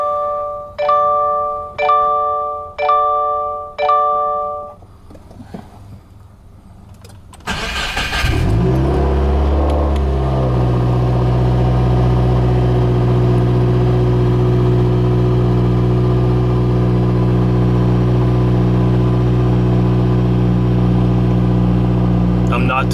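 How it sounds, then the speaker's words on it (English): A Subaru WRX, just fitted with a new battery, gives a run of warning chimes before its engine cranks, fires and settles into a loud, steady idle that drones on alone to the end. "So we're just going to start up fresh after the battery change."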